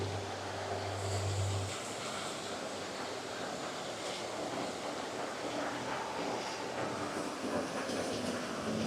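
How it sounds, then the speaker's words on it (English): A Disney monorail glides past at EPCOT during the Christmas season, a steady soft rumble and whoosh blended with outdoor wind-like noise, at a moderate distance with no talking. "Oh, we got the monorail going by here."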